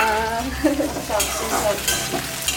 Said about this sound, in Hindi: प्याज हल्का हल्का ब्राउन हो चुका है। अब मम्मी ने इसमें शिमला मिर्च डाल दिया।